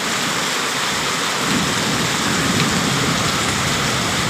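Heavy rain pours during a lightning storm, a dense steady hiss of falling water with a low rumble underneath, unbroken and loud throughout with no voices.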